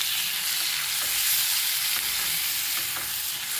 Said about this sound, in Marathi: छानपैकी हा टोमॅटो आपल्याला परतून घ्यायचा.